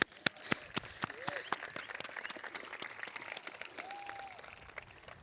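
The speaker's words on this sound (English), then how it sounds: "let's give them another round of applause" A high school commencement audience applauds outdoors, a steady wash of many hands with a few sharp nearby claps standing out, lasting throughout at moderate loudness.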